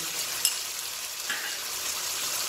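Eggplant and long beans frying in a pan, a steady bright sizzle, close and even throughout, with one brief clink of a utensil near the start.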